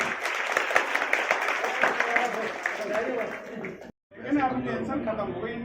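Clapping from a school audience honoring a prize winner at a district-level science event at a girls' inter college, a dense patter of hands with voices mixed in, cutting out briefly near the end before resuming.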